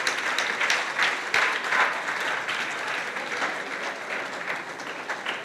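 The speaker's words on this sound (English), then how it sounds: "I want you to please clap for these students, these great Nigerian futures." Applause from an audience at a Nigerian career expo breaks out for students, a dense and even wash of clapping that keeps going for the whole stretch at moderate loudness.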